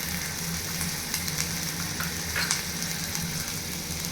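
Tomatoes and green chilies frying in hot oil for a tomato chutney, a loud, even sizzle with a low rumble beneath and a few faint scrapes of stirring.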